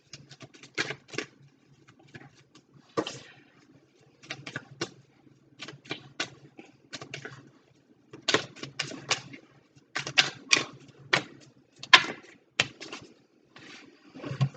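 Tarot cards being handled and shuffled up close, with irregular bursts of crisp flapping and riffling patter separated by short pauses.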